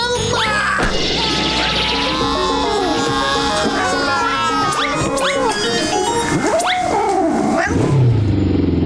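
Cats yowl and screech in a frantic fight, with crashes and thuds mixed in, loud and close, and voices shouting over the commotion.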